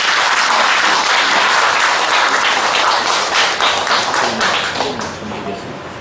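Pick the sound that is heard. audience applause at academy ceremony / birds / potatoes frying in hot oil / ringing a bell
audience applause at academy ceremony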